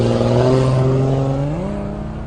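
A stock class race car at the 2018 MetalCloak Stampede holds a loud, close engine drone on track, its pitch climbing steadily and then stepping up as it accelerates.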